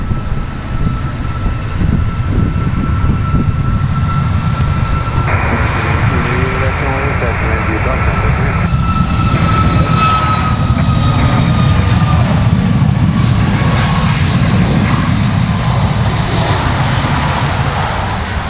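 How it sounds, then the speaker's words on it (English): A Boeing 737 Max rolls on the runway at Raleigh-Durham airport, heard from beside the perimeter fence as a steady broad jet roar with a rising whine layered over it. Faint voices come and go beneath the continuous engine noise. "You can definitely hear the planes a lot better down here."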